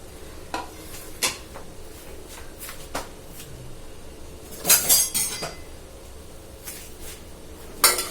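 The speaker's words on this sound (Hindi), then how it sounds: "अब हम पहले ना ये दलिया भून लेंगे।" Broken wheat being dry-roasted in a pan, a faint crackle broken by repeated spoon scrapes and clinks against the metal, close and quiet with no talk.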